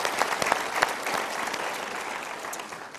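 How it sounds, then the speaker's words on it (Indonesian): Audience applause at a motivational seminar, a burst of many hands clapping with a few sharp, louder claps early on, then settling into a steady, gradually thinning patter. "Kita berikan tepuk tangan."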